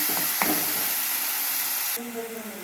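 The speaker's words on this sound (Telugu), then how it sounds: "ఇప్పుడు ఉల్లిపాయలు, పచ్చిమిరపకాయలు వేసేస్తాను" Sliced onions and green chilies sizzle loudly in hot oil in a pan, a dense continuous frying hiss up close with a couple of brief stirring knocks, then the sizzle settles lower.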